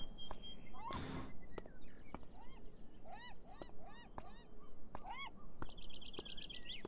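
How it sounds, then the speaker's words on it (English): Seagull-like cries ring out repeatedly over a steady outdoor ambience, with a brief burst of noise early on and scattered chirps throughout, from the video game Beyond Eyes. "There's seagulls over here we can't get past because it makes like loud noises"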